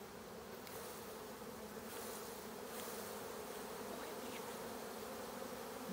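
Honeybees buzz steadily at an open hive during a honey harvest, a dense continuous drone that stays close and loud for the whole stretch with no talking over it.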